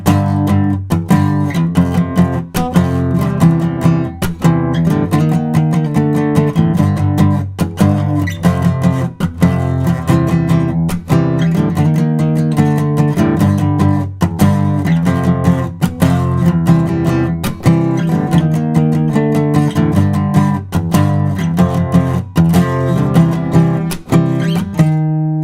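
Loud, driving electric guitar plays the aggressive ending of a song, heavy distorted power chords strummed in steady rhythmic bursts throughout, close and dense with no voice.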